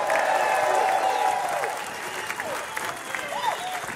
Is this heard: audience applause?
yes